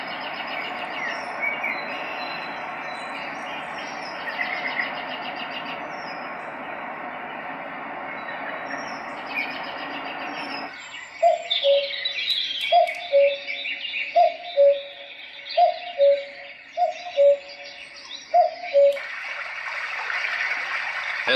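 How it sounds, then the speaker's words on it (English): A white noise machine's forest setting plays a steady brook-like wash with repeated bird chirps and calls, the bird notes growing clearer and more rhythmic in the second half over the continuous flowing hiss. "It's like a brook and birds and stuff."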